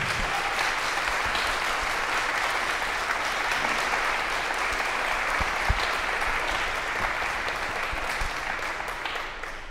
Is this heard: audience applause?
yes